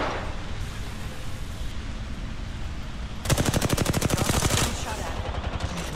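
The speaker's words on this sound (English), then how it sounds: "Shots fired." Rapid automatic gunfire in the video game Apex Legends, a fast regular burst of loud shots lasting over a second, set against constant noisy game ambience.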